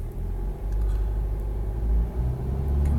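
A car pulls away from a stop with normal acceleration, its engine a steady low rumble that swells slightly as it gains speed, close and continuous with no talking.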